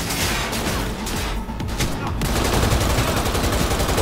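Rapid pistol fire in Cyberpunk 2077, loud dense bursts of shots packed together with a short lull midway, close and dominant throughout.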